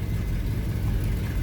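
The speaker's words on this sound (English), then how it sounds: "Nice little rumble coming out of that nailhead V8." A 1956 Buick Special Riviera with a nailhead V8 runs at a steady idle, a close, even, low rumbling burble with no talking over it.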